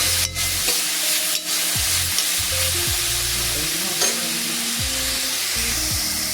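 Onions frying in a pan for cauliflower curry are stirred with a utensil, giving repeated scraping strokes over a steady close sizzle, with no talking.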